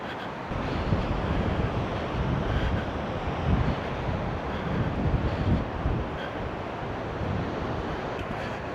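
Strong wind buffets a microphone while rough sea waves roar steadily at Seaham beach, a loud, continuous broadband rush with no voices.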